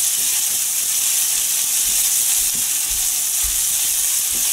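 Chili and garlic stir-fry for pad kra pao in a hot pan, giving a loud, continuous close sizzle and hiss with soft clanks of the spatula scattered through it, and nobody speaking.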